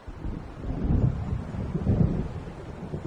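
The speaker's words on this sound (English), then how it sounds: "It seems there's a storm coming." Thunder from an approaching storm in the video game Alan Wake, with a deep rumble that swells twice and fades in between. It sounds continuous and fairly loud, with no voices.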